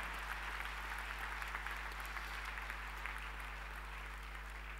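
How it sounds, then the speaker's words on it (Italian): Audience applause at a Lega Lombarda party congress, a steady even wash of clapping from a crowd heard at moderate distance, continuous throughout with a low steady hum beneath and no talk. "vi chiedo un applauso"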